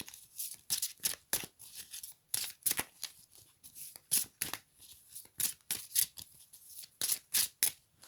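Deck of oracle cards being cut and shuffled by hand, a rapid, regular series of sharp riffling flicks up close, about two a second.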